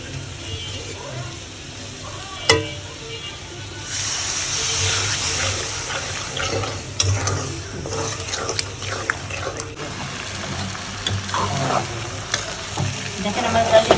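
Dal fries in oil in a pan and is stirred, giving a steady sizzle broken by scraping strokes of the spoon, close up, with occasional talk nearby.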